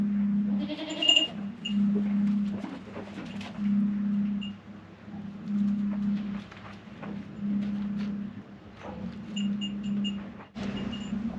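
Baby goats and their mother bleat repeatedly on a homestead, a steady run of close, moderately loud calls with short pauses between them and no talking.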